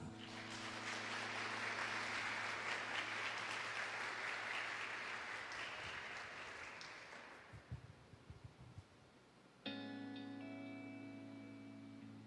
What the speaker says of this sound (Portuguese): Gostaria de também convidá-los a saudar nossa educadora cristã com uma salva de palmas